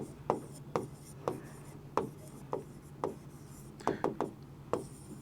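Quiet pen or marker strokes on paper or a board, a series of soft scratchy taps and short scrapes in an uneven rhythm, close and faint.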